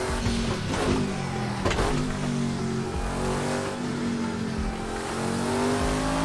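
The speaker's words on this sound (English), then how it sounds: "I want to hear this. It's a V8." Virtual V8 engine from a sim racing game, loud and continuous, with revs climbing and dropping through H-pattern gear changes, no voices over it.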